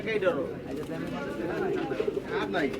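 Pigeons coo and murmur at the Sharulia pigeon market in Bangladesh, a busy outdoor bird market. Their soft repeated calls sit close under loud nearby talking.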